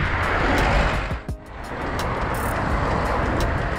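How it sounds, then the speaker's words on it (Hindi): Heavy Sunday afternoon road traffic on the way to a hill station tourist spot rushes past in a continuous roar, with a brief dip partway through before the steady wash of passing vehicles resumes. "आज है संडे इसलिए थोड़ा सा रास्ते में ट्रैफिक ज़्यादा है"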